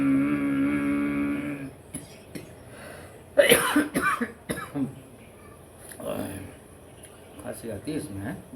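Coughing and throat clearing during ujjayi pranayama yoga breathing, a burst of harsh coughs in the middle after a sustained voiced breathing tone, close, with a person speaking around it.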